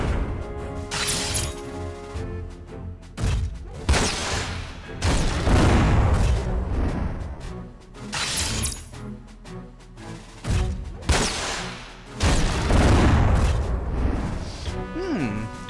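Heavy bazooka blasts in the PS2 game Front Mission 4, several loud booming explosions with long rumbling tails spaced a few seconds apart, over a game soundtrack.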